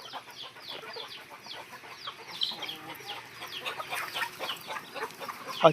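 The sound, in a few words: Black Java chicken rooster clucking on a farm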